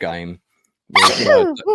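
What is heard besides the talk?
sneeze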